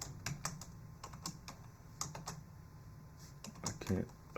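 Rapid, uneven tapping of a computer keyboard, close and fairly quiet, with bursts of keystrokes separated by short pauses.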